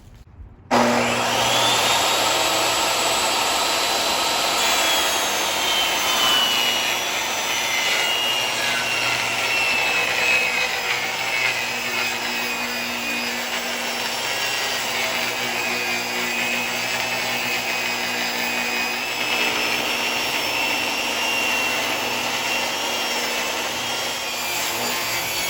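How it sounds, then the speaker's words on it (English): A table saw rips 3/4 inch birch plywood into 4-inch strips, giving a loud, sustained whining cut that starts abruptly and runs steadily close by, with no talking. "Now I'm going to cut 3/4 inch birch plywood to the 4-inch strips."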